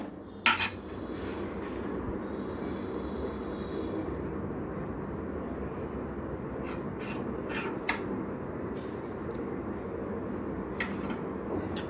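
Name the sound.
stirring and mixing food in a cooking pot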